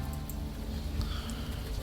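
Steady rain in the video game Unavowed, a soft continuous hiss with faint scattered drips throughout, moderately quiet and even.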